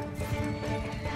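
Horse hooves gallop in the Bannerlord video game during a siege battle, a busy clip-clop of several mounts under game noise and overlapping voices.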